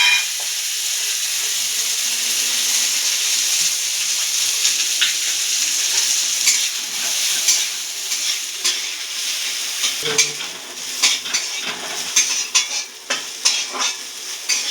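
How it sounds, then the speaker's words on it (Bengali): Raisins and cashew nuts fry lightly in a pan of hot oil for pulao, giving a steady bright sizzle with stirring and scraping sounds that grow choppier toward the end, with no talk. "এবার কিচমিচ আর কাজু বাদামটাকে ভেজে তুলে রাখবো হালকা করে"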